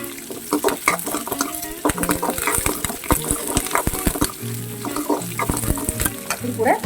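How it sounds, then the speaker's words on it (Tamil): Onions sautéing in a pan for chau chau chutney, loud close sizzling with irregular spatula scrapes and clanks against the pan, plus a few low hums underneath. "அதை நல்லா நான் வதக்கிக்கிறேன்."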